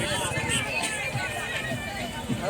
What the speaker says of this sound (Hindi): देखिए कितना भीड़ है मार्केट में